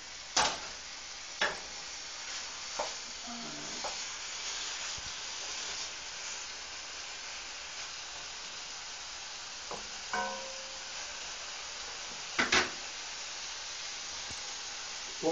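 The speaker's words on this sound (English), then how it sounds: "We'll let these sizzle for about 5 more minutes." Chili ingredients for a Christmas chili sizzle steadily in a pan, a low continuous frying hiss with a few sharp clicks and scrapes of stirring now and then, with no talking.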